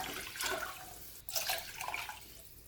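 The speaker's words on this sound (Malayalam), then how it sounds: "2 ഗ്ലാസ് വെള്ളം ഒഴിക്കാം." Two glasses of water are poured into a pot of tamarind rasam, a brief gushing splash with a short pause between pours, close and fairly quiet.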